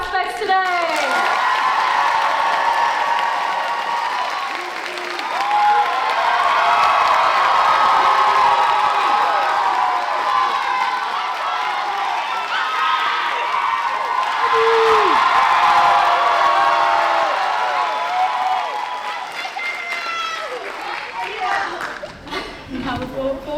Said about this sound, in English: can we get another round of applause for all the aspects today?